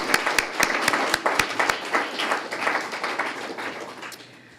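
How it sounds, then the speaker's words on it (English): Applause for staff at a fall graduation and awards ceremony: scattered, fairly close hand claps from a modest crowd, starting brisk and uneven, then thinning and fading out toward the end. "And let's give you a round of applause."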